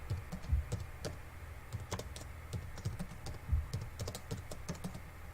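Steady typing on a computer keyboard fills the clip, close and distinct, with irregular clusters of key clicks and thumps at a moderate, unhurried pace and no talk.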